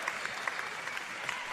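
A crowd at a 2019 Waratah men's basketball semi-final at Niagara Park Stadium applauds steadily, with scattered sharper claps. The applause is moderately distant and fairly quiet, and no voices stand out.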